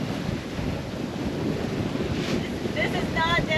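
Wind buffets a sailboat moving at about 18 knots apparent in the British Virgin Islands, a steady rushing over the microphone with water wash beneath and a few faint high squeaks near the end.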